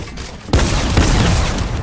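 Shotgun fire in a Fortnite match: a loud, close blast hits suddenly, followed by a dense burst of shots and impacts with game noise, with no voices.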